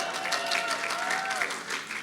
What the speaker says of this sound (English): yes, applaud your faculty too